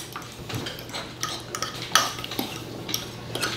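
Spoon stirring potato salad dressing in a small bowl, close and quiet repeated scraping and clinking of utensil against the bowl over a low steady hum.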